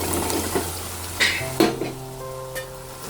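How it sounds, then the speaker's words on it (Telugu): Drumsticks dropped into a pan of frying onions for an egg and drumstick curry, with a few clattering knocks of the spoon against the pot over a soft background sizzle. "ఇప్పుడు ములక్కాడలు వేసుకుందాం."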